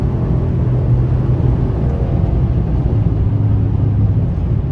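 Deep, steady rumble from the Borla exhaust of a 2023 Chevy Silverado RST with the 6.2L V8, loud and continuous at a constant drone while cruising, heard alone with no talk.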